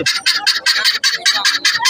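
Loud, close chickens clucking in quick rhythmic bursts at a market, about nine short cackles in a row.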